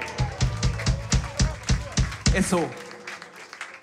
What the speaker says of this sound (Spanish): Un aplauso para Te Insomnio,